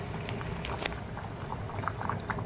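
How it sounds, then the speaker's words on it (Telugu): Dal (lentils) boiling in a pot, a steady low bubbling simmer with occasional small pops and splutters, close and fairly quiet, no talk. "చూడండి పప్పు ఎలా ఉడుకుతుందో"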